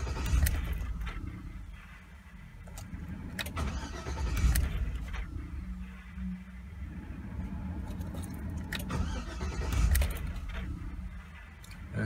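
A car in reduced-power limp mode with a U0107 fault cranks repeatedly while trying to start. Bursts of starter grinding and engine stumbling come close and loud, separated by quieter pauses, with no voices.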